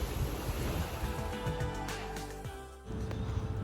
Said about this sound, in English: The seas are starting to pick up